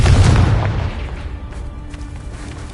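A Confringo blasting spell explodes in the Hogwarts Legacy video game, a loud booming blast that peaks right away and then fades into a rumbling tail.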